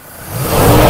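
An old pickup truck accelerates on a test drive, its engine rising in a close, loud roar that swells over one second.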